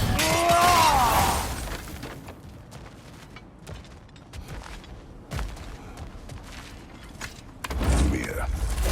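Objects smashed apart in God of War Ragnarök, with a loud shattering crash up front, scattered debris clatter and creaks, then another heavy impact near the end.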